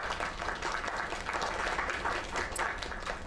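Steady applause from an audience in the video game Lake, a dense, continuous patter of clapping held at an even level throughout, with no voices standing out.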